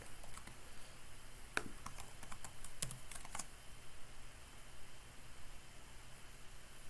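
Computer keyboard typing in a quiet room, a burst of separate clicks and clattering keystrokes in the first half that thins out to a low steady background hiss, no voices.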